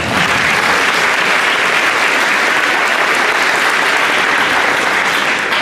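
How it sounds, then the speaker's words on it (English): Loud, sustained applause from an audience at a high school athletic signing celebration, dense clapping holding at an even level throughout without a break. "let's give a round of applause for that"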